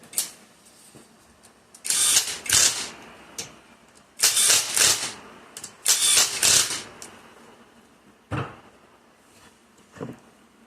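Clustered ratcheting clicks in short quick bursts as a ratchet torques the bearing retainer bolts on a TREMEC TKX transmission, close and crisp, with a few isolated clacks and quiet pauses between.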